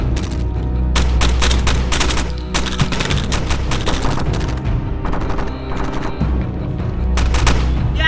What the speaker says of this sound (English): We started to receive fire from the enemy,